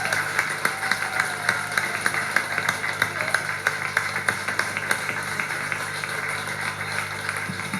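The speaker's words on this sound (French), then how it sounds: "Sous vos applaudissements." Applause breaks out at a festive reception in Guadeloupe presenting the Fête du rhum, steady dense clapping from a gathered audience at moderate distance, continuous and even throughout.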